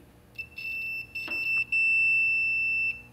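A multimeter on its continuity setting beeps while testing wiring during a DiabloSport analog input install on a Dodge Challenger in a garage: short broken beeps, then one long steady tone, clear and close.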